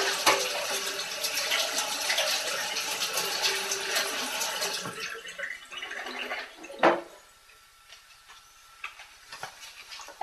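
Soaked raw almonds are rinsed under running tap water in a kitchen, a steady broadband splashing that fades after a few seconds to quieter drips and small knocks.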